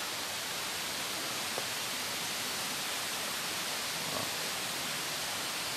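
Steady broadband roar of the Kionsom forest waterfall near Inanam, Sabah, a constant hiss of falling water with no variation, heard alone at moderate distance.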